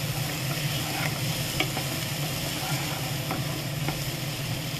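Chopped beans and carrots fry in a pan while being stirred, a continuous close sizzle with light, intermittent scraping strokes of the spoon, no voices.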